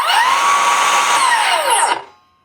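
A Harbor Freight 12-amp brushless circular saw runs at high speed with a loud, steady whine, then spins down and stops near the end.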